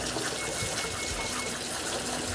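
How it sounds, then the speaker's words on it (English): Cold tap water gushes steadily into a kitchen sink over drained pasta, a continuous close splashing rush without pause. "run some cold water quickly over the pasta so I don't continue to cook so much"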